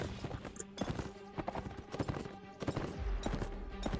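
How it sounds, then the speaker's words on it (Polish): Hooves clip-clop in a steady clatter in Mount & Blade: Warband with The Deluge mod, with scattered clicks and rumbles of other game sounds mixed in throughout. "Kto zastrzeli tego konia?"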